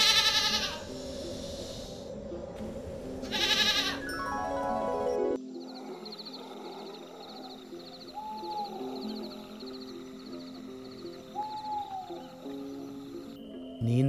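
Sheep bleat in an open pasture while the shepherd rests under a tree, with two loud bleats early on giving way to softer, steady farmyard ambience and a few faint calls.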